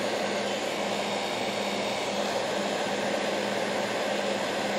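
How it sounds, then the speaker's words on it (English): Steady loud rush of a compressed-air gun blowing over wood to dry it, a continuous broadband hiss held without a break and no voices. "use the air gun here to just kind of dry the wood a little bit faster"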